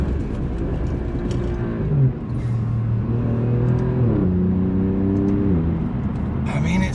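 An Alfa Romeo Giulia Quadrifoglio engine pulling hard in first gear, a close, loud rising growl that climbs in pitch, briefly dips, then surges upward again.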